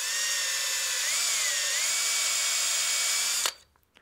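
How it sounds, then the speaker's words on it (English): A power drill spins a barrel trimmer to square the end of an Alumilite resin pen blank, giving a steady loud whine that wavers slightly before cutting off abruptly near the end. "Nice thing is that Alumilite barrel trim is really easy."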